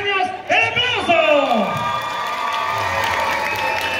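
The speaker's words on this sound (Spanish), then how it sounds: "quien quiere que gane la de 17 años, el aplauso" Crowd cheering, whooping and applause at a jaripeo show in Santa María Xuchapa, loud and continuous, with shouts rising over steady clapping and voices throughout.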